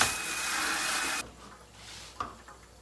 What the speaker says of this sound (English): Just rinse it out.